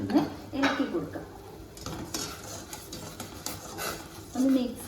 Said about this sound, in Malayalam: അതിലേക്ക് 1 ടീസ്പൂൺ വെളിച്ചെണ്ണയും കുറച്ച് ഉപ്പും കൂടി ചേർത്ത് കൊടുത്തിട്ട് നന്നായിട്ടൊന്ന് ഇളക്കി കൊടുക്കാം